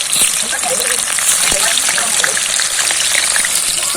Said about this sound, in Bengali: এখানে চিকেনের আলুগুলো ভেজে নেওয়া হচ্ছে চিকেন কষার।